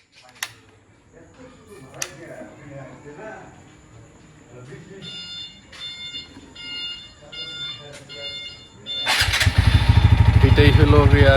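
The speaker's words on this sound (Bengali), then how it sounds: "বাইকটা টোটালি স্টার্ট নিতেছে না, কিছু সময় স্টার্ট নিলে 1000 RPM যায় স্টার্ট অফ হয়ে যাইতেছে।" A TVS 4V FI motorcycle with a fault that makes it fail to start or die after starting; quiet clicks and whirring come first, then the engine catches and runs loud and rough near the end.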